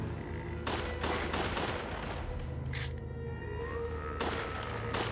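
Several sharp gunshots crack in quick bursts over a steady low rumble in Resident Evil: The Darkside Chronicles on Wii, with a louder, brighter shot midway and another pair near the end.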